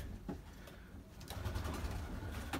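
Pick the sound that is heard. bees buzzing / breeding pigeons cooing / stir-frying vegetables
breeding pigeons cooing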